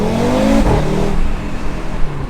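An Audi RS3's 400 hp five-cylinder engine pulls hard on a road through a forest, a loud close-up growl climbing in pitch, then easing off into a lower droning rumble.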